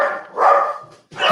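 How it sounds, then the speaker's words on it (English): A dog barks in two sharp, loud yaps close by, separated by a short gap, with no other sound around them. "Whose dog is barking?"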